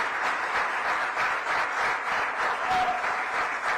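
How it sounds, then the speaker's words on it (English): Sustained, dense applause from a large audience at a forum of heritage site managers, a steady even wash of clapping with no speech over it. "So please, a huge round of applause for them."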